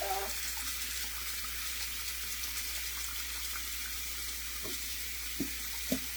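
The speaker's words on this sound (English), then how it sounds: "And warm water, I'll just let that start to fill." Warm water runs steadily from a tap into a plugged sink while hand-washing a vintage wedding dress, a soft continuous rush with a few small splashes near the end.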